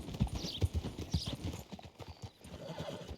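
Horse hooves clip-clop in Red Dead Redemption 2 in a quick run of close, hollow thuds, and a horse whinnies briefly partway through.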